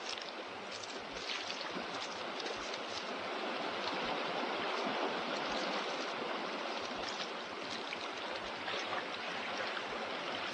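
A river flows in a steady, even rush of water that stays faint and unchanging throughout, with no voices over it.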